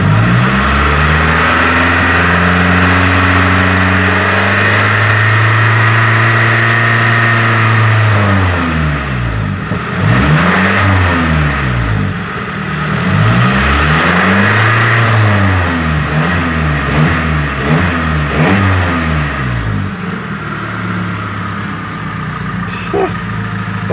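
A green truck's engine runs loud and close, idling low, then revs up and down repeatedly in rising and falling sweeps before settling back to idle.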